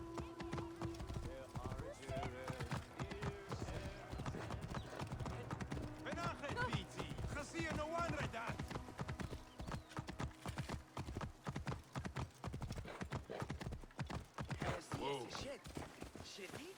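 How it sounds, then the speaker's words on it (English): Steady hoofbeats of a galloping horse in Assassin's Creed Origins drum on without pause, with occasional whinnies and a voice talking over the game sounds. "Get back on the horse."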